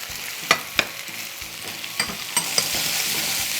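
Onion frying and being stirred in a hot pan for spicy Korean stir-fried potatoes with fish sauce, a close, steady sizzle punctuated by several sharp clicks of the utensil against the pan.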